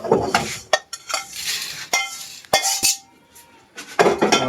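A spoon mixes chira (flattened rice) with chanachur in a bowl, giving close, sharp metallic clinks and scrapes in irregular bursts, with brief quiet gaps between strokes.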